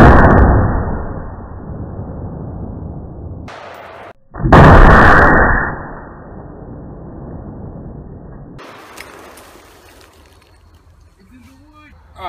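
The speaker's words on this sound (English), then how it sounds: "the first one I'm gonna shoot is probably gonna be a little bit of an explosion" A gunshot hits a pumpkin and sets off a loud, sudden explosive blast, followed by a booming roar that fades over several seconds, with a quieter rumble before it.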